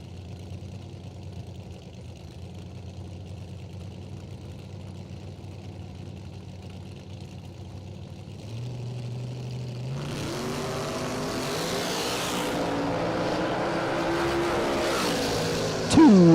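A Chevrolet Nova and a Monza sit at the drag strip line, engines idling low and steady. Then the revs climb into a loud, roaring launch as both cars pull away, the engines building and sustaining a strained, high-revving howl.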